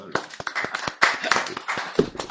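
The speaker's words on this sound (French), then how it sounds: "Applaudis-moi." Applause from a studio audience on a French-language television talk show, a burst of clapping lasting a couple of seconds, fairly close, mixed with a voice speaking over it.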